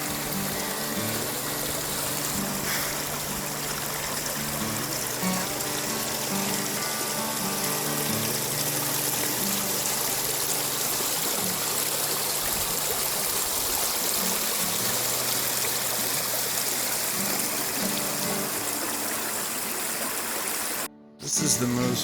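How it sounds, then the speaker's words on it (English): Salt Fork Creek on a mountain hiking trail, a steady broadband rush of flowing water that holds constant and fairly loud throughout, with a brief dropout near the end. "we decided to come down to Salt Fork Creek and grab a little bit of water"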